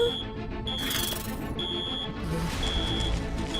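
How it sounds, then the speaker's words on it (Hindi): An alarm in the animated film Rudra: Secret of Black Moon rings in a repeating pattern of sustained high electronic tones, loud over a dense bed of background music and effects. "ये लो जी, अलार्म बजने लगा।"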